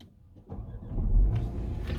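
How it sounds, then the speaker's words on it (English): A Range Rover Velar fitted with an immobiliser starts up: a quiet click, then a low engine rumble that rises after half a second and settles into a steady idle, close and moderately loud. "Vehicle starts, select a gear, vehicle switches off, so we know it's protected."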